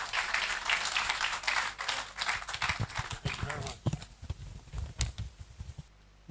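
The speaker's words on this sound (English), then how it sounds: "A round of applause for him, please." An audience claps at a formal opening-remarks ceremony, with full applause at first that thins into scattered individual claps and fades out near the end.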